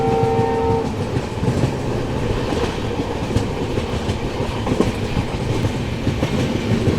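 Humsafar Express rolling along a single line through Assam toward Guwahati, a steady loud rumble of wheels on rails with rhythmic clacking throughout, and a brief horn tone at the very start.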